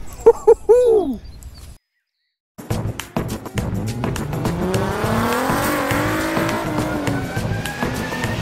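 An Alfa Romeo Giulia Quadrifoglio starts with a few short chirps, falls silent briefly, then fires up and revs loudly, the engine climbing and settling through rising and falling pitch sweeps close by.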